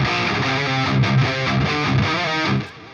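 A built-in preset on a ToneX Plug gives a heavily distorted metal electric guitar tone, playing a loud, thick chugging riff for a few seconds before it cuts off, with no talking.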